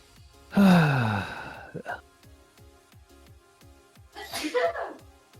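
A single loud, close sneeze bursts out early, followed by a short breathy sigh or exhale later, over a faint rhythmic background tick.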